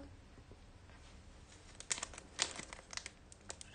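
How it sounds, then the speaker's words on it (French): Scissors snip through a crinkly Pokémon booster pack wrapper, giving faint crinkling and a quick run of sharp, close cutting crackles. "là, on va découper dans le booster"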